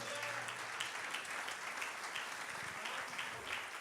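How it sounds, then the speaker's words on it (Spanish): A church congregation applauds during a sermon, a steady, even wash of clapping that carries on unbroken, fairly distant and moderately loud. "Alguien le regala un aplauso al Señor"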